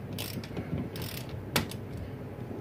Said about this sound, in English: Alright, snug with that wrench.